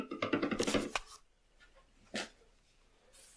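Canned clams drop into a pot of keto clam chowder made with whipping cream and sour cream, giving a quick burst of wet, clattering plops followed by a soft scrape, faint and close in a quiet kitchen.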